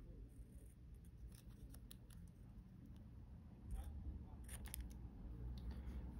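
Scissors snip through material for a miniature apartment model, a string of faint, sharp little clicks in small clusters against quiet background hiss.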